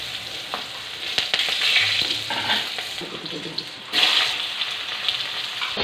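Dry red chillies and fenugreek seeds sizzle and crackle in hot oil in a kadai while making a sour fish curry. The frying hiss is steady and close, with occasional stirring scrapes and no voices.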